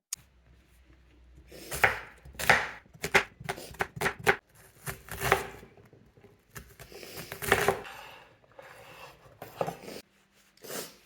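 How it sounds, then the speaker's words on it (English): A knife chops an onion quickly on a cutting board in bursts of rapid taps, separated by short pauses, close and fairly quiet. "We're gonna start by chopping the hell out of this onion"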